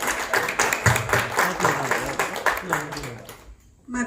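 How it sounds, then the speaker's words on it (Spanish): Audience applause at a cultural reading circle in Puebla swells in rapid, fairly close claps with some voices mixed in, thinning out and stopping after about three and a half seconds. "Fuerte aplauso, por favor."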